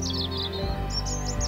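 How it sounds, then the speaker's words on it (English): Birds chirping in a summer grass field, light high tweets over a steady soft musical drone. "listening to the birds chirping"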